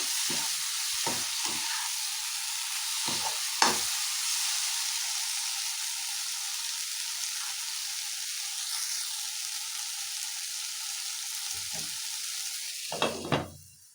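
Soya chunks coated in masala fry in a pan with a steady, close sizzle and hiss, broken by a few sharp stirring scrapes near the start and end.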